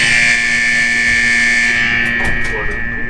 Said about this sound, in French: C'est une alarme scolaire.